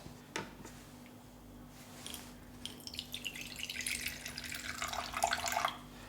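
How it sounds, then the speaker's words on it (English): Yarrow and peppermint hydrosol poured into vinegar, a soft steady liquid trickle that starts faintly and grows fuller before stopping, close and alone. "And we're just going to pour that in."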